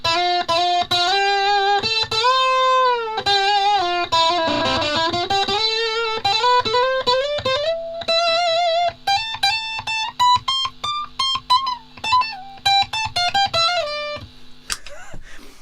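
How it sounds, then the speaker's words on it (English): A handmade electric ukulele played through a distortion pedal plays a melodic run, sustained fuzzy notes giving way to choppy, rapidly picked phrases; loud and close, no voices. "you could stick it through a sort of a distortion pedal"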